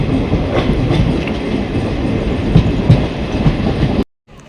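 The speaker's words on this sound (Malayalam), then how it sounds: "ട്രെയിൻ ഇതാ തൃശ്ശൂർ റെയിൽവേ സ്റ്റേഷനിലേക്ക്" An LHB-coach train from Mangaluru to Thiruvananthapuram rolls toward Thrissur railway station with a loud continuous rumble and rhythmic wheel clatter heard from inside the carriage, cutting off abruptly near the end.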